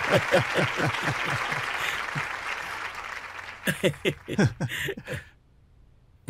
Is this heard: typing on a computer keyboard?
no